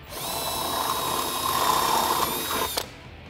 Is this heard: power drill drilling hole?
yes